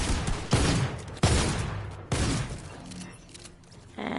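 Gunfire from a shooting video game rings out in several loud, sharp bursts spaced about a second apart, each trailing into a rumbling decay.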